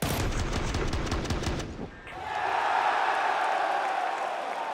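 Gunfire in a Counter-Strike esports match, a rapid burst of shots that cuts off abruptly, followed by a sustained crowd roar in the arena.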